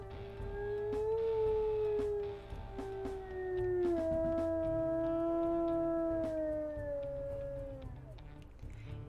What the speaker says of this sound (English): Even though that is one of the longest howls, I love that howl.